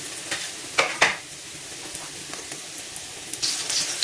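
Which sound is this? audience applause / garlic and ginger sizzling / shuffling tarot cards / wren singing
garlic and ginger sizzling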